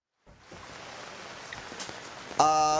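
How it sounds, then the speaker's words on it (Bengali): Heavy rain pours down on a city street in Chittagong during a downpour, a steady broadband patter that holds throughout, with a brief tonal burst near the end. "এখন থেকে আবার মুষলধারে বৃষ্টি শুরু হয়েছে বন্দরনগরী চট্টগ্রামে"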